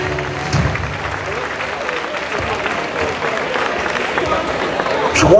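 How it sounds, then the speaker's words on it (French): A concert audience applauds, dense clapping running steadily under some crowd murmur, with a louder low thump right at the end. "applaudissez, merci"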